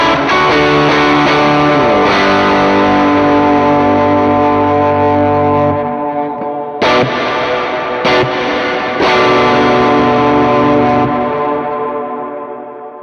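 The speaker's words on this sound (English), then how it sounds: "how the reverb pushes out of the way when I'm playing a very driven sound" Driven electric guitar through a Meris Mercury X or Strymon Bigsky MX reverb and compressor pedal chain: loud sustained distorted chords with a wash of reverb, a few sharp restrikes after a brief gap, then ringing out and fading.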